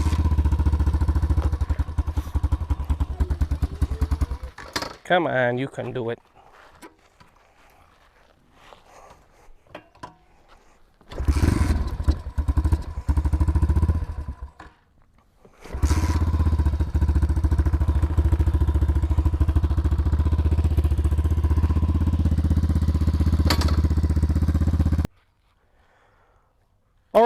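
A Kayo TT140 dirt bike engine idles in bursts, a loud, rough putter that cuts out and is restarted several times with kicks and clatter between runs, with a brief spoken encouragement.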